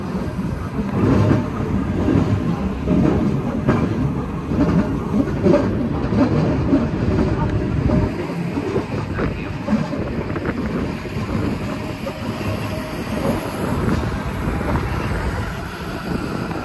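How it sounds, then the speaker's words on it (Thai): A Swiss mountain train nears Grindelwald station, heard from aboard as a continuous loud rumble of wheels and carriage with gusty wind noise. "ขบวนรถไฟครับกำลังจะถึงสถานีครับสถานีกรินเดลวัลด์นะครับ"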